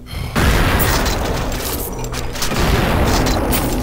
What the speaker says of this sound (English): this double-barreled shotgun has an alternate fire of firing both of them at once